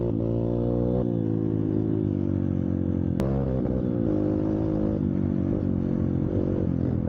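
Motorcycle engine in a back-roads trail riding video game, a steady harmonic drone holding pitch with small shifts and dips, loud and continuous throughout, with a sharp click partway and no talk.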